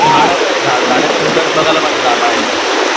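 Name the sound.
flowing river water after rain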